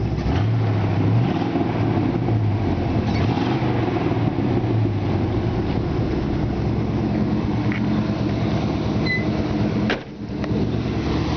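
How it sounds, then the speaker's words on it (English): A 1950 Ford F1 pickup with a 305 engine runs with a steady low exhaust rumble, continuous and fairly close, dipping briefly near the end. "It's got a nice sounding exhaust system."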